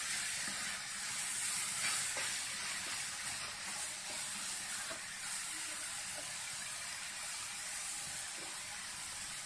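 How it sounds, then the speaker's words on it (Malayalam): Grated raw papaya sautéing in a pan for a traditional papaya cake gives a steady, fairly quiet hissing sizzle that runs throughout with no talk, broken by a few faint soft ticks. "നമ്മൾ ഗ്രേറ്റ് ചെയ്ത് വെച്ചിരിക്കുന്ന കപ്പളങ്ങ ചേർക്കാം. നമുക്കൊന്ന് വഴറ്റാം."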